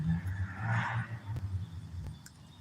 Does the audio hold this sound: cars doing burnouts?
yes